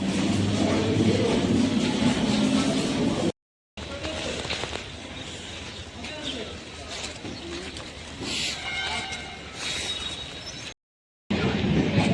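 A train rolls past nearby, a loud continuous rumble and rattle of wheels, with birds calling faintly above it and two brief breaks in the sound.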